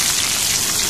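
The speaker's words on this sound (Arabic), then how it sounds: "انزلي عليه بالفلفل، ولعيه وشطشطيه وانتي بتدلعيه" Onions and sweet peppers sizzle steadily in a hot pan for moussaka, a dense, even crackle like rain on a surface, filling the short moment with no talk.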